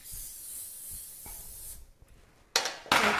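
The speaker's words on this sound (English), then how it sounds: "get the cooking spray happening" A continuous hissing spray that fades out, then two short, loud bursts of aerosol cooking spray close by, in a kitchen making scones.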